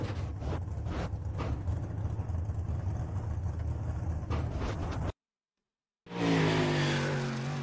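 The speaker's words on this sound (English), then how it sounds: "Cody Terry was the next car to take time." A drag race car making a timed pass down the strip, its engine roaring loud and steady for about five seconds, then a sudden gap of silence before another loud engine surge close by.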